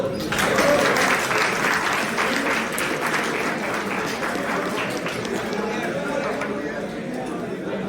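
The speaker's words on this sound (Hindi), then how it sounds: "तालियां बजा दो।" Crowd clapping at a soft skills college event as members are called onto the stage, steady applause mixed with chatter and voices throughout.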